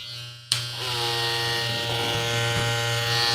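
A Suprent combo hair clipper switches on with a sharp click and settles into a steady, close electric buzz with a strong low hum that keeps running alone.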